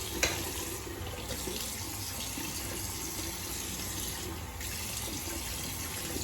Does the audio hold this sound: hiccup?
no